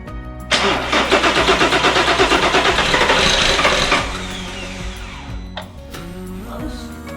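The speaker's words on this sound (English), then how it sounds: "It's gonna cycle the key a couple times and we're gonna let it rip." An engine cranks over with the key while its injectors are removed, a close, loud, rhythmic churning of the starter for about three and a half seconds before it stops, followed by a few clunks.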